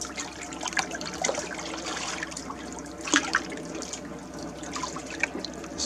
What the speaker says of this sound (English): This is dripping with water here